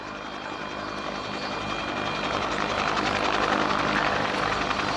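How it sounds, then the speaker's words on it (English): A Westland Whirlwind helicopter flies a search and rescue winch demonstration at an air day, its rotor and engine drone loud and continuous, building steadily as it draws closer. "here we see a demonstration of the Whirlwind's search and rescue role. As it performs a demonstration using the winch"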